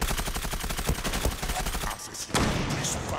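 Fast, evenly spaced automatic rifle fire rattles through a Zula match, a sustained close burst that breaks off near the end before a few more sharp shots.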